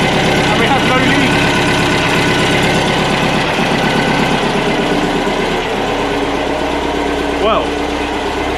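A VW T2 Bay Window camper engine idles on a restoration project, a loud, steady, rattly running sound that continues throughout and comes through close by.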